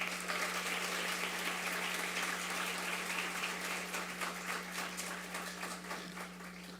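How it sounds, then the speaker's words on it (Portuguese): Audience applause at a solemn session in a legislative assembly hall honouring a school's anniversary, steady distant clapping over a constant electrical hum, gradually fading. "Uma salva de palmas para vocês."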